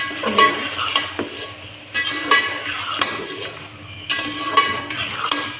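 Peas, about half a kilo, are stirred into keema frying in a pan, with repeated scraping strokes of a spoon against the pan over a soft background sizzle.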